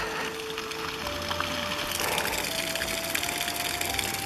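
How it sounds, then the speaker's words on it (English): Waterfall on the Inca Trail just outside Cusco, a steady broadband rush of falling water that holds loud and unbroken for the whole stretch, with faint tonal hums passing over it and no talk. "here's a waterfall."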